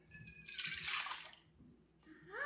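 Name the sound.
pouring warm whole milk into bowl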